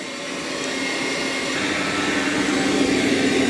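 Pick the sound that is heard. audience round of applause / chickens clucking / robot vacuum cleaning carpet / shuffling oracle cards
robot vacuum cleaning carpet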